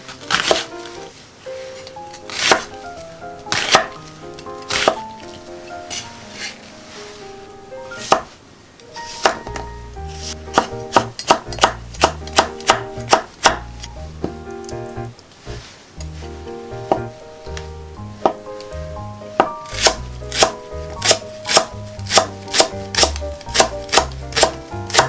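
A knife chops potatoes into thick pieces on a cutting board, heard as loud, close, irregular thuds that come in quick bursts with short pauses between them.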